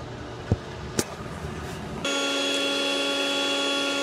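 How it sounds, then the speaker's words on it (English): A loud vacuum cleaner switches on partway through, after two sharp clicks, and then holds a steady, close whine with a constant motor drone. "Loud vacuum cleaner."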